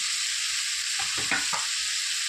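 Cauliflower and potato frying in a pan as asafoetida and ground spices are stirred in, a few close scraping stirs over a steady sizzle, no talking.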